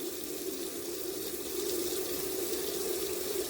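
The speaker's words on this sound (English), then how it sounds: "Now, washing lentils." Tap water runs steadily into a sink while lentils are rinsed under it, a constant, even splashing stream close by.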